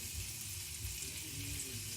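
Squid sizzles in a pan, a short steady hiss of frying with a low rumbling undertone, close and even throughout.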